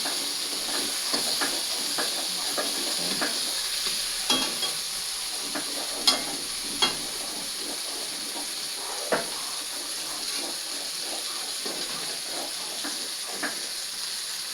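Garam masala spices fry in oil in a very large wok, a steady soft sizzle with occasional sharp spatters and clinks of stirring, close and fairly quiet throughout.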